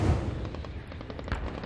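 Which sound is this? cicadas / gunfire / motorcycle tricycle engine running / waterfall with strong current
gunfire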